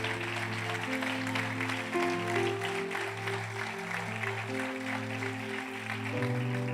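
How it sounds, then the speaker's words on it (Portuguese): A church congregation applauds steadily in a continuous, diffuse patter of many hands, layered over sustained organ or keyboard chords that play throughout. "Você pode aplaudir ao Senhor nessa noite por isso?"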